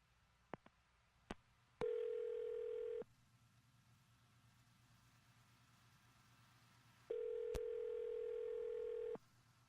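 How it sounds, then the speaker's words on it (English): Telephone ringback heard after a phone number is dialed: two long, steady electronic ring tones separated by a pause of a few seconds, with a few faint clicks on the line beforehand. "I'm going to dial her phone number right now"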